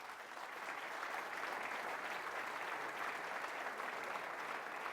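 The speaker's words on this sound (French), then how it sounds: "Et je demande qu'on les applaudisse pour cela." Steady applause from a large audience at a mayor's New Year ceremony fills the room, a dense even patter of many hands clapping without pause.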